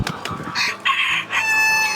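A village rooster crows nearby, a loud drawn-out call following a few short clucks.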